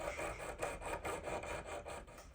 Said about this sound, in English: So you go over the coarse file first.